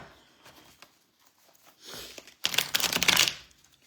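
Tarot cards are shuffled in a quick riffling burst lasting under a second, crisp papery flutters after a few soft handling rustles, close and otherwise quiet.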